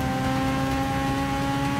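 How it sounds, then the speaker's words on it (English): Rotary engine revving hard in the Forza 6 racing game, a steady, loud high-pitched engine whine that holds throughout with no pauses, and no one speaking over it. "But listen to that rotary engine wind up."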